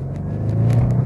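Audi RS6 Avant Performance engine pulling hard, a steady low, throaty drone that builds slightly over a second, close to the microphone with no talking.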